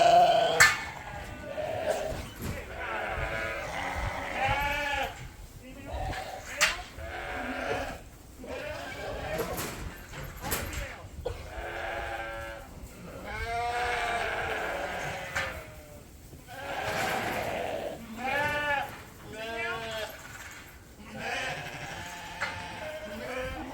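Lambs bleat over and over in a crowded pen as ewe lambs are sorted from ram lambs, their wavering cries overlapping close by while a person talks through much of it.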